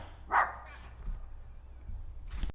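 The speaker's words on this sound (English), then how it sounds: "there's my dog" A single short dog bark rings out near the start, followed by faint outdoor rumble and a small yip near the end, heard on an e-bike ride.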